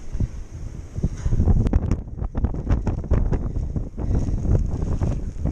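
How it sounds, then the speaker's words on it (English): Strong gusting wind of around 55 miles an hour buffets a microphone outdoors, a loud continuous low roar with surging gusts and rattling flutter throughout. "There's, according to this, 55-mile-an-hour winds"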